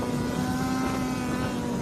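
A loud unidentified car, noisier than a nearby motorcycle, roars steadily with a constant engine drone throughout, close and dense with no voices.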